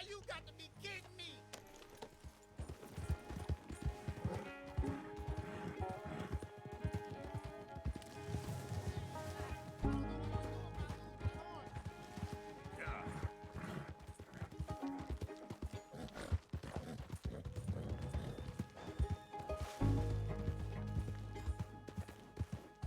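Hooves clip-clop in a steady galloping rhythm with occasional whinnies in Red Dead Redemption 2, layered over music and game effects, fairly loud and continuous.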